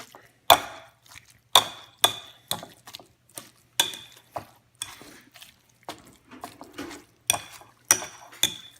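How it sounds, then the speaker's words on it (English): Avocados being mashed for guacamole in a bowl, a series of irregular wet squelches and utensil clinks against the bowl, close and fairly quiet with pauses between strokes. "So we're just going to mash it up just like this."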